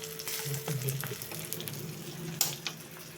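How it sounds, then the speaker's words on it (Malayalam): Fish frying in a pan crackles and sputters close by, with scattered sharp pops over a continuous watery sizzle. "മീൻ വറുത്തോണ്ടിരിക്കണം"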